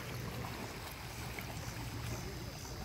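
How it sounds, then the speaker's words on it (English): Soft, steady water lapping against a boat at sunset while fishing, a quiet continuous wash with no talking. "Hearing the water lapping is very peaceful."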